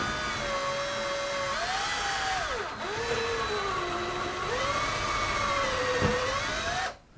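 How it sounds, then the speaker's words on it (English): A power drill whines steadily while boring through wood behind a wall during track shelving installation, its motor pitch rising and dipping as load changes, then cutting off abruptly at the end. "Drilling through wood."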